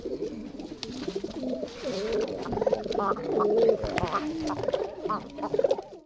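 Native pigeons, a male and a female, cooing in soft repeated low phrases close by, with a voice speaking over them now and then.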